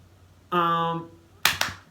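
Two sharp hand claps close together follow a brief tonal musical phrase, loud and close with no talking.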